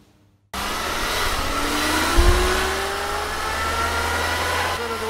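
A steady mechanical whine from a worn front axle differential on a Suzuki Grand Vitara rises over a constant engine drone, loud and close, after a brief quiet start.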